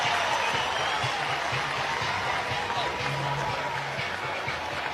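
A softball stadium crowd cheers a stand-up triple with a broad, sustained roar and applause, loud throughout, while a commentator talks over it.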